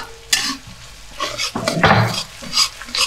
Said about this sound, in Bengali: এবার পেঁয়াজটা রসুনটা ভাজতে ভাজতে এর সাথে কেটে রাখা লঙ্কা অ্যাড করে নিলাম।